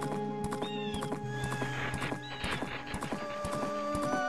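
Steady clip-clopping horse hooves in Zelda: Majora's Mask trot along in an even rhythm, layered under bright in-game music with a brief whinny.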